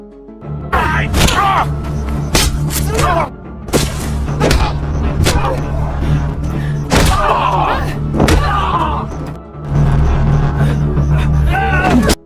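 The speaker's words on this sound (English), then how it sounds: "Then she started attacking them and hitting them severely." A film fight scene, with a woman attacking her captors: heavy thuds, slams and blows land repeatedly in loud bursts, mixed with vocal grunts and shouts throughout.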